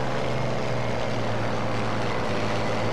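Propeller airplane engine in the World War II shooter game Battlefield V, a steady, loud droning hum with a strong low tone that holds evenly throughout with no voices over it.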